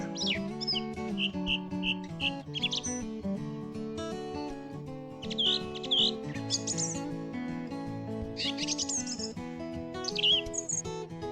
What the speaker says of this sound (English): That's a stunning call, whatever it is. So I'm going with song thrush.